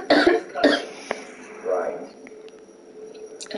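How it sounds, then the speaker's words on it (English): Two harsh coughs close to the microphone, followed by a softer throat-clearing cough, in a dark game area where people talk around the sounds. "It stunk so bad it made me cough."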